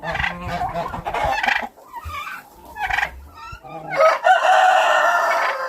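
Chickens squawk and cluck agitatedly up close, with bursts of loud, overlapping calls and flurries of commotion, sounding like a scuffle among birds.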